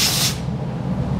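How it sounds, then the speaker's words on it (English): Aerosol rust inhibitor sprayed from a wand above a plastic vehicle panel in a Mopar rust-proofing process, a close, steady hiss that cuts off after a moment and leaves low background noise. "we're going to apply the rust inhibitor above that panel. Simply pull down a section and spray"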